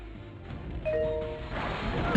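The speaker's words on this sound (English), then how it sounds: "I love that doorbell sound" A video-game doorbell chime rings out as a brief, bright electronic ding with a lingering tone, heard over low background game noise.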